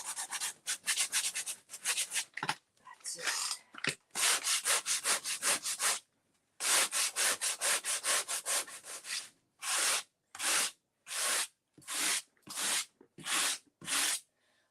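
Sandpaper rubs by hand across an old file cabinet in a series of rhythmic, close scraping strokes, grouped in bursts with short pauses, the later strokes slower and evenly spaced.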